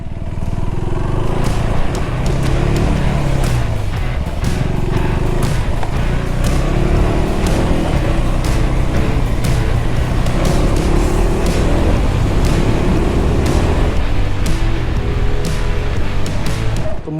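A 2025 KTM 390 Adventure motorcycle ridden off-road through a garden, its engine droning loud and close with uneven throttle surges and rattling clatter from the terrain throughout.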